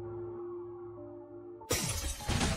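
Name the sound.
ice block cracking and breaking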